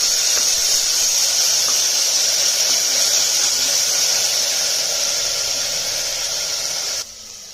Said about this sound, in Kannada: ಇವಾಗ ನಾನು ಹುಣಸೆ ಬೆಳ್ಳುಳ್ಳಿ ಪೇಸ್ಟ್ ಹಾಕ್ತೀನಿ